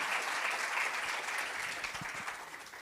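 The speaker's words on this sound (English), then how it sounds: "Round of applause, man." Soft, steady applause from a workshop audience at a marketing expo, a short continuous patter that fades slightly toward the end.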